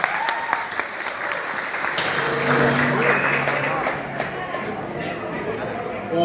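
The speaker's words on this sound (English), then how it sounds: "Give yourself a big round of applause." A crowd applauds loudly and continuously, with a few voices calling out and chattering over the clapping.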